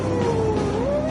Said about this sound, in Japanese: パトカー通過します。